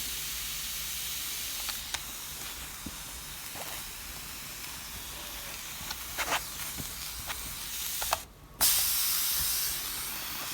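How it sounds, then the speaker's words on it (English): Steam hissing steadily from an iron pressed onto a wet pressing towel while blocking a knitted shawl, a continuous close sizzle with brief sharper bursts and a short pause near the end. "As long as you're hearing that sizzle, it's wet."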